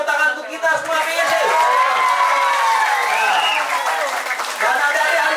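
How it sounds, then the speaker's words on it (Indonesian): Children at an English and character day camp clapping and cheering, a dense continuous roar of applause with shouts and whoops rising over it, loud and close, with voices mixed in. "Tepuk tangan untuk kita semua PC"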